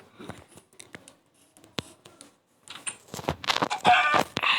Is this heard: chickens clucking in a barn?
yes